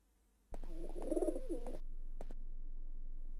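Pigeon named Dave cooing in a garage in the video game Zaru: a single close, clear burst of soft throaty coos lasting about a second, followed by a couple of brief clicks over low steady background hum.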